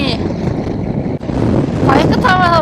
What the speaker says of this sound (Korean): 바람이 바이크 타면서 맞아본 바람 중에 제일 센 것 같아요